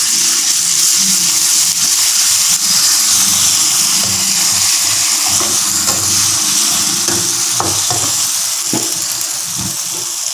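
Ginger garlic paste fries with softened onions in a pan for mutton dalcha, giving a loud, steady sizzle throughout, with occasional scraping knocks from stirring.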